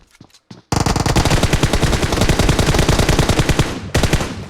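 M416 rifle fire in the mobile battle-royale game PUBG Mobile: after a few brief sharp sounds, a long, loud, rapid automatic burst rattles on close up, pauses briefly, then resumes.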